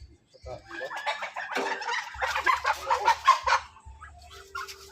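Several chickens cluck and squawk close by in an irregular, busy chorus, with soft low background noise in between.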